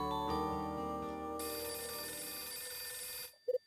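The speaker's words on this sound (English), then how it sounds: "It's the phone again. I'm so popular these days. My phone's ringing." Electronic telephone ringtone in the Last Window video game, a loud steady ringing tone with layered harmonics that cuts off abruptly, followed by two brief soft blips.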